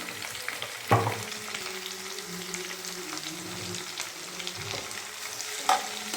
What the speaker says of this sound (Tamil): நல்லா இது மாதிரி ஃப்ரை பண்ணிக்கலாம்